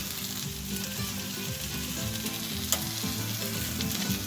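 Steady, dense sizzling of seafood paella in a hot pan, continuous and fairly close, with faint crackles and occasional stirring sounds.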